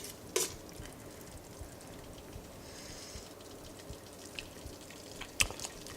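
A spaghetti jollof sauce made with meat stock simmers in a pot over low heat, giving off faint, steady bubbling with a few soft clicks and drips, quiet and close with no talking.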